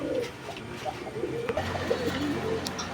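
A pair of Lahori pigeons coo in low, throaty murmurs that repeat steadily, close by, with faint background rustle and no talking.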